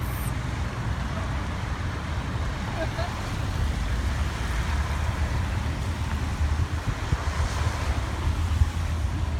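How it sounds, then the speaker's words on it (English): Heavy rainstorm in Las Vegas, a steady roar of downpour and wind-blown rumble filling the whole stretch at constant loudness, close and dense, with no talk. "This is what happens in Vegas when it fucking rains."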